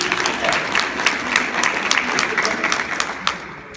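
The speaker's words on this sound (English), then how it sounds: "So once again, another round of applause." An audience at a motivational talk gives a round of applause, a steady, dense wash of clapping that sustains evenly and then starts to thin out toward the end.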